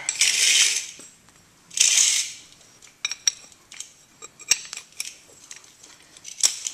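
Metal lug wrench extension bars from a tire-changing kit clicking and clinking together, with two longer bright scraping rattles followed by a series of sharp small metallic ticks, close and fairly quiet.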